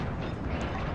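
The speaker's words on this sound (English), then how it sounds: "Take some shots from the Scharnhorst there, lights me on fire." Dense, roaring boom of battleship shells from the Scharnhorst striking in World of Warships, a sustained loud blast filling the entire short moment.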